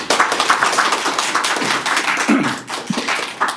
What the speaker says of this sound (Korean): 큰 박수로 모셔주십시오